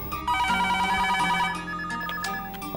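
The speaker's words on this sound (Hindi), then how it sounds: "सब जस्सी के लिए फोन है, सप्लायर के वहां से है शायद।" A telephone rings loudly and continuously, a bright electronic tone with layered harmonics that fills the whole stretch without pause, and no one speaks over it.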